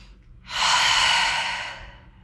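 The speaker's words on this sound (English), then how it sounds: "Take a deep breath in and out." One long, deep exhalation during a floor mobility stretch: a soft, breathy rush of air that swells quickly, holds for about a second and gradually fades, close and alone.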